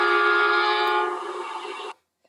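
Short train sound effect, a loud sustained horn-like blast lasting about two seconds before cutting off abruptly, with no talking.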